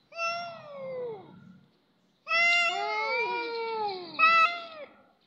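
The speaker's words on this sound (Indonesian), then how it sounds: "Bapaknya kucing kalung ini berantem kan." Two collared cats fight, trading loud, drawn-out yowls and caterwauls close by, one long wail, a pause, then a longer rising and falling howl ending in a sharp cry.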